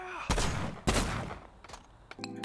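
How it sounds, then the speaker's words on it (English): Double barrel shotgun fired in the VR game Hard Bullet: two loud, close blasts about half a second apart, each with a long decaying tail, followed by lighter mechanical clicks of reloading. "So get the double barrel shotgun, reload it, and let's party."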